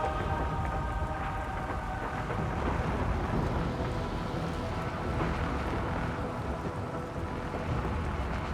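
Heavy rain in a video game pours as a dense, continuous wash, with rolling thunder rumbling low underneath throughout, loud and steady with no voices.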